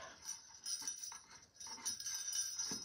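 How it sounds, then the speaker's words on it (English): Small bells attached to a craft sled jingle and clink in short irregular bursts, close and fairly quiet, with no voice. "So I'm going to attach my bells first."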